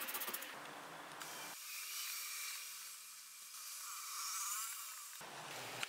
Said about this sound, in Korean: 거친 사포로 단자를 살짝 갈아줍니다.